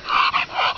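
A dog, likely Leo, lets out a short string of close, whiny growling barks in under a second, strained and high-pitched, during an outdoor walk.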